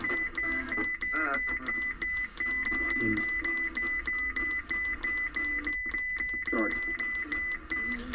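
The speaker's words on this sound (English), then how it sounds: "That beeping is annoying." A steady, repeating electronic beep tone persists throughout in a Hesston 6650 tractor cab, mixed with radio-like noise and intermittent low voices.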